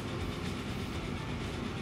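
A locomotive-hauled train in the game Transport Fever 2 rumbles along the track, a steady dense rolling roar with faint rhythmic clatter, continuous and fairly close.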